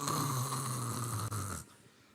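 A preacher imitates a person snoring, giving one long, loud, rasping snore that stops abruptly, with no other talk.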